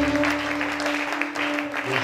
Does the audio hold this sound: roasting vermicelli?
no